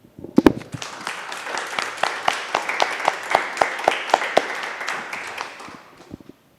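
Applause from members at the general assembly of the Geneva Red Cross, starting with a few loud claps, swelling into steady group clapping with distinct individual hands, then tapering off to silence.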